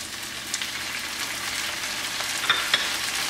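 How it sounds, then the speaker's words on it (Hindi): Two medium tomatoes going into frying onions for a maash and chana dal, a bright steady sizzle with a few sharp stirring clicks, close and even with no talking. "अब इस स्टेज पे मैं ये जो टमाटर 2 काटे थे मीडियम साइज़ के, ये डाल दूँगी"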